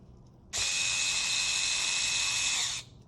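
A small electric screwdriver drives screws into a MacBook Air during a screen replacement, giving a steady high whir for about two seconds at close range, then stopping, with no talk.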